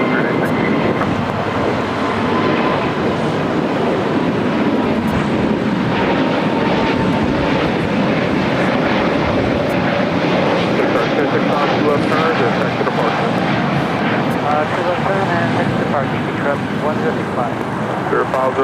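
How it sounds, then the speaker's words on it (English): A Spirit Airlines A320neo jet takes off at LAX, a loud continuous engine roar filling the whole stretch, with a commentator talking over it. "That was Spirit Airlines flight 816 heading Kansas City, Missouri, A320 Neo"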